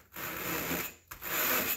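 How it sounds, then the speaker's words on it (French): A ruler rubbed firmly over fabric canvas to flatten a bubble, two close raspy scraping strokes separated by a brief pause. "Là, j'essaie d'aplatir ma bulle avec ma règle."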